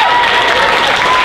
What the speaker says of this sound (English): So give that man a big round of applause right there.